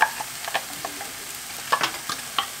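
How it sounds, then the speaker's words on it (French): Celery and onions sautéing in a pan, a soft steady sizzle broken by scattered scraping stirs and light clicks of a utensil, close and alone. "Je fais revenir avec les oignons"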